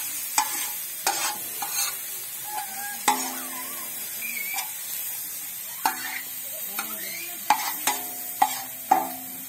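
Oysters frying in a seasoned pan, crackling and sizzling steadily while a utensil scrapes and taps the pan in repeated sharp strokes.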